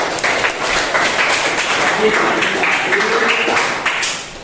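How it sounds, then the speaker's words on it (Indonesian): Schoolchildren clap their hands together in a classroom, a dense burst of applause lasting several seconds at steady loudness, with a teacher's voice faintly audible underneath. "Silahkan tepuk tangan dulu anak-anak."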